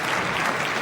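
A crowd bursting into dense, sustained clapping and cheering at a 2008 World Tenpin Masters bowling match, loud and brief.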